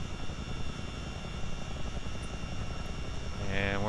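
A Chinook CH-47D twin-rotor helicopter in Microsoft Flight Simulator ground taxis with a steady, fairly faint rotor and turbine drone, rumbling evenly throughout with a brief tonal rise near the end.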